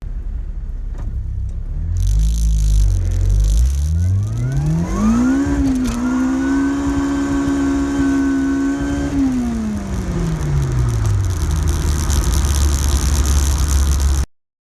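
A car engine winds up through a full-throttle pull, the roaring note climbing steadily, holding high for several seconds, then falling away as the throttle closes; loud and close with no voices.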